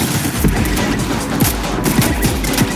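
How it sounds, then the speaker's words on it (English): Gunfire in a Fortnite match: several sharp shots fired in quick succession from behind, loud and close, with no talking. "Whoa, we're getting shot from the back."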